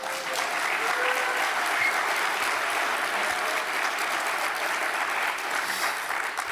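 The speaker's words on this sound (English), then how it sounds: "Round of applause, please." A congress audience gives a sustained round of applause, dense and even clapping that holds at a steady level from start to finish.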